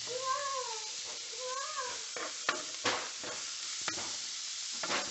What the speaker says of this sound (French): on va se maintenant à frire dans du bon beurre à l'ail